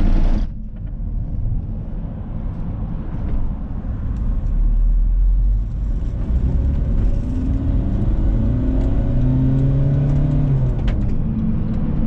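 A VW T5 camper van crosses a cattle grid while leaving a forest, its engine rumbling loudly and steadily from inside the cab with road noise throughout and a brief clatter near the start.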